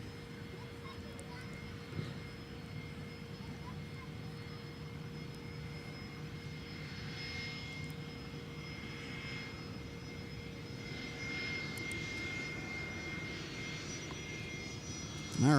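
A Delta airliner takes off from runway 12 right at Minneapolis–St. Paul Airport, a distant, steady jet engine roar building slowly and holding through the whole stretch, faint and broad rather than close.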